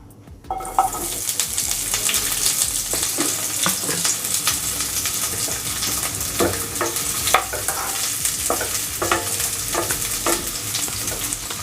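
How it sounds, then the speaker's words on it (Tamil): Onions sautéing in oil in a pan for chana masala, a steady sizzle throughout with repeated scraping and stirring clicks from a utensil, close and fairly loud, no talking. "இப்போ வெங்காயம் கொஞ்சம் வதங்கட்டும்."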